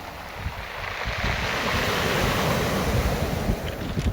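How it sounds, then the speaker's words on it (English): Loud ocean surf crashing onto a Nova Scotia beach, a continuous roaring wash that swells midway, with strong wind buffeting the microphone and no voices. "these loud crashing waves"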